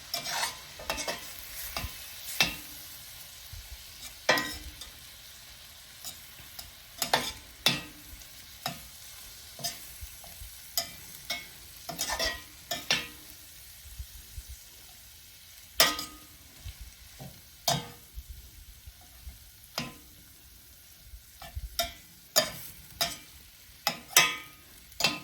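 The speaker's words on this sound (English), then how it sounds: "Just keep stirring it." A spoon stirs flour into beef stroganoff in a pan, giving close, irregular scrapes and soft clacks against the pan over a faint cooking hiss, with no talking.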